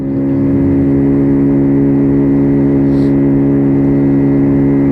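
A WK Colt 50cc motorbike climbs a hill, its small engine holding a loud, steady droning hum throughout.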